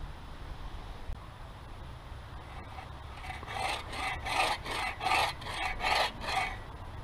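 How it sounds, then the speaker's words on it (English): Notches are cut into the ends of wooden bed frame pieces with a rasping, sawing stroke, repeated in a steady back-and-forth rhythm of about seven close strokes after a quiet start, with no talk. "So I'll notch all these, 3 places on each one of these ends."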